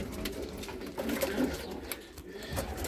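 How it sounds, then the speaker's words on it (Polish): Racing pigeons coo softly and repeatedly nearby in a loft, with low throaty calls over faint rustling and background noise. "Jest tych gołębi."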